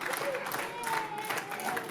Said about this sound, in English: Crowd really egging him on.